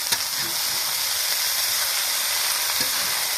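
Steady broadband sizzling from a hot pan as chikni greens go in with cooked potato and eggplant, the frying hiss continuous and fairly loud throughout with a few faint clinks, no speech.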